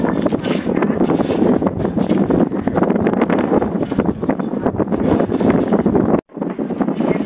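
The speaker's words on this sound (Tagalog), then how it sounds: "Kaso ngayon, sobrang hangin eh." Strong wind buffets the microphone at an outdoor weekend market, a loud continuous roar that cuts out abruptly near the end before resuming.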